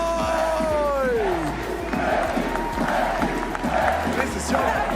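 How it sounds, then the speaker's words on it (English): A large crowd at a Fortnite FNCS live event roars and cheers, a dense, loud wall of voices with a falling whoop near the start and continuous shouting throughout. "This is your crowd."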